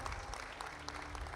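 A crowd at a faith and wealth talk in Lagos gives a steady round of applause, a dense even patter of many clapping hands filling the short stretch without pause.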